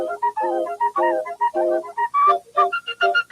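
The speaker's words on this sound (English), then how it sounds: "the water makes it be like a sliding flute or whatever" Slide whistle played back from a video, a series of short bright gliding tones rising and falling in quick bursts, loud and clear with brief gaps between.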